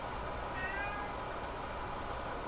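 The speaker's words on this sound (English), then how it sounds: "There's my other cat." An elderly house cat lets out a single drawn-out meow indoors, faint against a steady background hiss, with no one talking.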